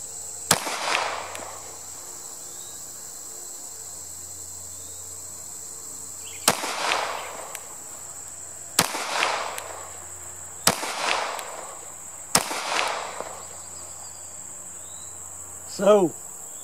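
Six CZ P10C pistol shots at a target, each a sharp loud crack with a short echo, fired singly at irregular intervals over a quiet background.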